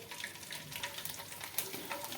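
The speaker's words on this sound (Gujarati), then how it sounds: "તેલ પણ આપણું સારી રીતે ગરમ થઈ ગયું છે. હવે તેમાં ભૂંગળાને નાખી દઈએ." Rice flour bhungla drop into hot oil and fry with a soft, fairly quiet, bubbling sizzle and small crackles, steady through the short stretch.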